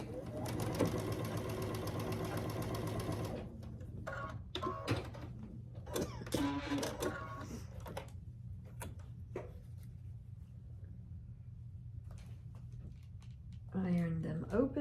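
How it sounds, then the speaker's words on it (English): A sewing machine stitches quilt block pieces together for a Grinch-themed quilt, running in a steady continuous whir for several seconds, then stopping. Fabric is handled and shuffled afterward, and the machine starts briefly again near the end. "So I'm going to sew this to this so they don't get out of place."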